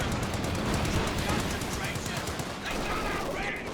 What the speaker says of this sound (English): that stolen MG42 beaming it